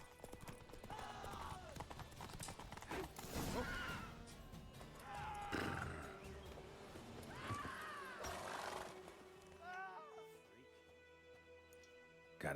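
Hoofbeats of a horse galloping in The Witcher video game, a steady clip-clop running under game music and ambience, with a horse whinny and game characters talking over it.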